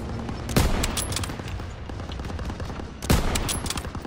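Heavy gunfire in Call of Duty WW2 during a battle in a town square, with two loud, close bursts of machine gun fire about three seconds apart over continuous distant shooting and combat noise.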